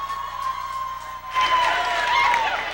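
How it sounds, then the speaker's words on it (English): Audience breaking into applause and cheering for a live band at a 1991 comedy show, the broadband clapping swelling up midway after a quieter stretch with a steady tone underneath. "I want you to give the band on the stand a round of applause."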